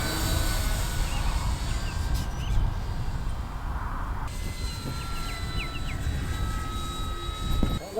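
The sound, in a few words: E-flite Turbo Timber Evolution RC airplane flying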